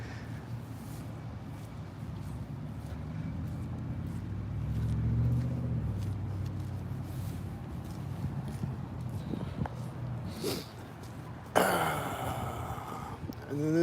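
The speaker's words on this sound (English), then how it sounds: "this truck is turning right now" A truck driving and turning on a road, heard as a low, rumbling engine that swells in the middle and then fades, with a sharp noisy burst near the end.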